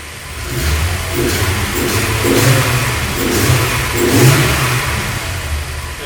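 A VW VR6 engine on a cheap standalone ECU, untuned, idling and being blipped with throttle, loud and close with several rising and falling revs over a rough idle.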